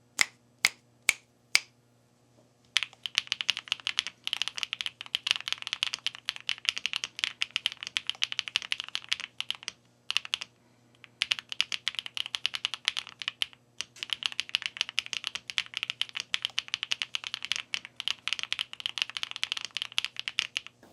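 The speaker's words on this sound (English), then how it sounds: "Perfect, clear, crisp, creamy sound as it should be on a great mechanical keyboard" A QK80 MK2 mechanical keyboard gives a few sharp separate clicks, then a run of fast, crisp, continuous keystrokes in bursts with short pauses, close and clean.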